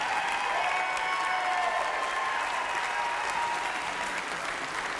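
Guests at a wedding reception applaud the couple with sustained, even clapping and a faint crowd murmur beneath it, full and steady from start to finish.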